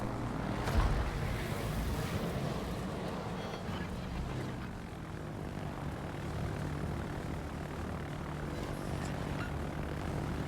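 Carrier aircraft from the Kaga flying in World of Warships, a steady droning propeller engine roar over ocean ambience, holding evenly throughout with a brief thump near the start.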